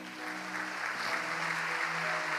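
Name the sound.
applause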